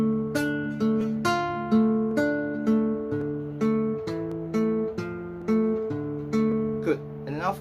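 A classical guitar plays a slow, plucked melodic passage from the Allegro Op.50 No.13, single notes and ringing chords sounding clearly up close with no talking.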